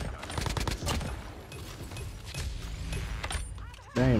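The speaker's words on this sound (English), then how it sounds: "Sentry gun, bro." A sentry gun in the COD Mobile shooter rapidly firing bursts amid other in-game gunfire and effects, dense and loud, with a voice talking over the action.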